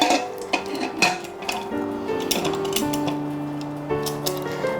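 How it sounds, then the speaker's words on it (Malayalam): A pressure cooker lid being closed in a home kitchen while cooking rajma curry, heard as a series of close metallic clanks and scrapes of steel on steel, with no talking. "ഇനി നമുക്ക് കുക്കർ അടയ്ക്കാം."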